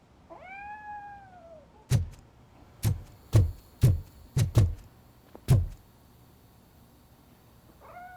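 A cat meows once in the Robocop: Rogue City video game, a drawn-out rising and falling call, followed by a series of sharp clicks or knocks against a quiet background.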